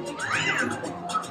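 A cat with a touring performing cat troupe gives a single drawn-out meow, rising then falling, close by amid background noise.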